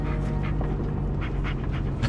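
A dog pants steadily in the Blair Witch video game, rapid breathy huffs running throughout over a low ambient hum, fairly close and with no talk.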